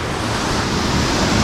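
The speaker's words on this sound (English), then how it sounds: "the noise of the water though isn't helping" Steady loud rush of water near a hidden waterfall on Koh Samui, Thailand, a dense continuous roar with no gaps and no voices.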